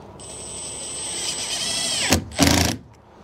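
A power drill whines steadily while driving a screw during a window installation, then cuts off, followed by two short loud bursts of the tool.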